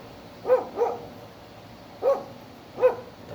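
A dog barks four times, two quick barks followed by two spaced-out ones, heard at a moderate distance with no other sounds.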